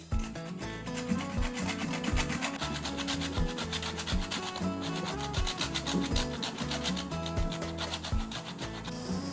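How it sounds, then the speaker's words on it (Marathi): Coconut is grated by hand for a Maharashtrian vegetable dish, a close, fast, rhythmic rasping scrape that repeats steadily for several seconds with no talking. "आता भाजीसाठी थोडंसं खोबरं खिसून घेऊया."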